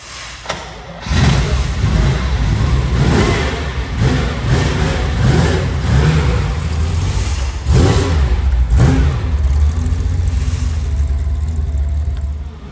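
A 1970 Ferrari 365 GTB4 Daytona coupe fires up cold, catching after a second, then runs loud and close with a deep rumble and a couple of blips of revving.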